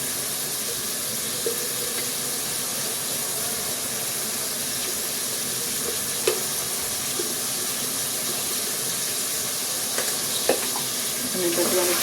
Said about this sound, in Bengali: এখন আমি এর মধ্যে 2 চামচ আদা রসুনের পেস্ট দিয়ে দিচ্ছি।